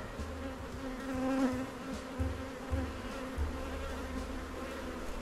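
A honeybee swarm hums steadily at close range during a swarm capture, a low continuous buzz with individual bees swelling louder as they pass near, and no voices.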